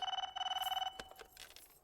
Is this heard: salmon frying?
no